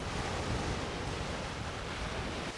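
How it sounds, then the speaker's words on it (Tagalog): Steady sea surf washing onto a sandy, pebbly island beach at Fortune Island, Nasugbu, Batangas, a continuous broadband rush with no breaks and no voices. "Tsaka maalon talaga dito."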